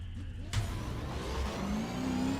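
Game car engine in Need for Speed: Pro Street revving steadily through a gear shift, with a sharp onset followed by a rising, sustained mid-pitched drone.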